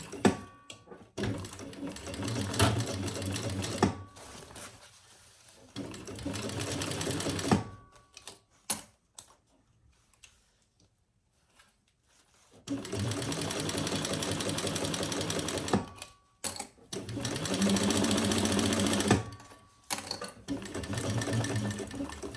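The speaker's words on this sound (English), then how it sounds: "And we're going to sew that together at the seam allowance in the pattern." A sewing machine stitches the seam of a leather Burcham crossbody bag, running in long steady bursts separated by pauses and short stop-start taps, close and clear with no talking.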